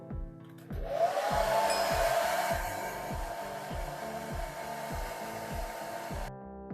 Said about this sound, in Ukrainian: Прискорити процес висихання ви можете за допомогою фену для волосся.